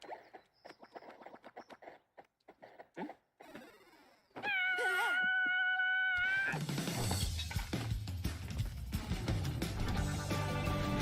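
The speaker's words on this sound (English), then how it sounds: "did you see that cat?" Cat meowing in the puzzle adventure game Lost in Play trailer, a clear drawn-out meow among sparse clicks and effects, then playful music swells in and continues.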